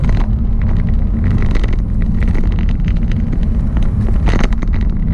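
Car engine of a GT pulling steadily uphill in fifth gear at about 1500 rpm on a road up the Campsies, with a loud, constant low rumble, road noise and wind buffeting throughout, no talk.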